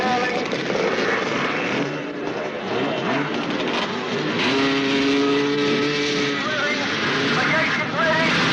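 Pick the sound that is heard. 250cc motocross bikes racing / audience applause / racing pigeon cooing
250cc motocross bikes racing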